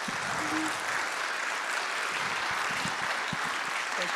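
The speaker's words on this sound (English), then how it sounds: "Please join me in welcoming Dr. Uriah Kim with a big round of applause." Audience applause welcoming Dr. Uriah Kim to a lecture Q&A, a steady wash of many hands clapping at moderate level throughout, fairly distant and even, with no talk over it.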